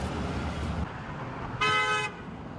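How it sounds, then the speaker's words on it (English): Passing cars on a city street give a short horn toot followed by a longer, louder honk, set against steady traffic noise outdoors. "passerbys gave him honks and support"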